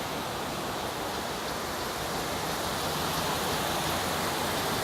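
Steady broadband rush of running water from a wool scouring machine in its rinse phase at a spinnery, continuous and even throughout with no voices.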